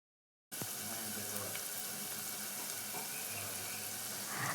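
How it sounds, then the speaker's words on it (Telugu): Chopped onions soften in hot oil with curry leaves, green chillies and coriander, starting abruptly after a brief silence as a steady, even sizzling hiss that holds without pause. "అలానే కరివేపాకు, పచ్చిమిర్చి, కొత్తిమీర వేసి మంచిగా మగ్గనివ్వాలండి ఉల్లిపాయలు మొత్తం."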